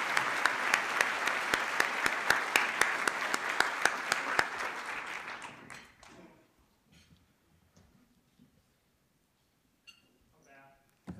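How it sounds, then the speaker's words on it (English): Banquet audience gives a loud, dense round of applause at an awards ceremony, steady for about five seconds before tapering off into near silence with a few faint sounds. "So everybody, please give our executive director a massive round of applause."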